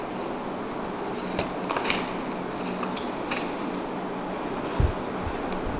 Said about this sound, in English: Let me pour the hot water.